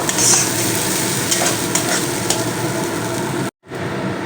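Spices, including asafoetida, sizzle steadily in hot oil while a spoon stirs and scrapes the pan, with a brief cut to silence near the end.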